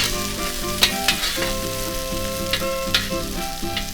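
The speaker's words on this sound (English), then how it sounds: "Listen to the sizzling in there." Steady sizzling of pambazos frying in a pan, close and continuous, with a few light clinks and scrapes of stirring.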